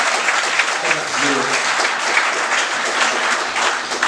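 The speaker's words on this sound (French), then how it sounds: "Vous voulez applaudir pour Dieu matin avec l'église." A church congregation applauds during a Sunday worship service, steady dense clapping filling the room throughout with a faint voice briefly audible underneath.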